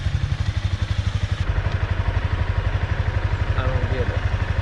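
A Honda CBR300 motorcycle engine idles with a steady low pulsing throb as the clutch is slowly let out, heard close and loud, with some voice faintly in the background.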